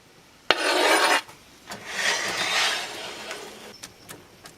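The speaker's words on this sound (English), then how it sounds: "the oil is starting to sizzle, so now's a good time to throw it in" A loud burst of hissing sizzle as onions hit hot oil, then a softer ongoing fry with a few clinks of a utensil.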